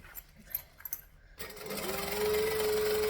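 After a second of quiet handling clicks, a sewing machine starts up and runs with a continuous loud, close motor whine while stitching around a circle bag.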